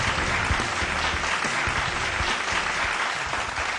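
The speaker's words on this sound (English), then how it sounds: "a big round of applause" An audience at a healthcare awards ceremony breaks into loud, dense applause, a continuous crackle of many hands clapping close and steady throughout, with faint crowd noise beneath.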